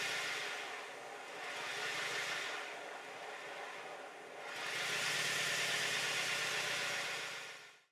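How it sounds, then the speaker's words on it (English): A model Stirling Single steam locomotive engine spun up to high speed gives a steady, rushing whir that swells, eases off, then rises louder again before cutting off abruptly, with no talking. "I need to spin up the engine to a really high speed and make sure nothing falls off it"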